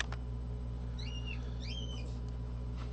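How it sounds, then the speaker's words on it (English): Pet birds chirping indoors, a few quick bright chirps and short whistled calls in the middle, faint over a steady low electrical hum. "My birds are excited."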